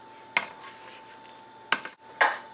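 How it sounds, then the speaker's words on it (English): A spoon lightly stirs banana crumb muffin batter in a mixing bowl, giving three distinct clinks against the bowl spread over a couple of seconds, close and clear, with quiet scraping between them. "Just very lightly stir it."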